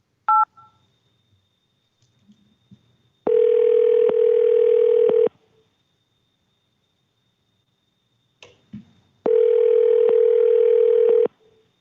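Telephone dial tone and keypad dialing as a call is placed from a courtroom hearing: a brief burst of DTMF tones, then two long, loud steady tone segments separated by a pause with faint clicks.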